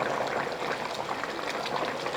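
Thick bubbling and gurgling of a pot of prawn biryani at a steady boil, close and continuous with a soft popping texture.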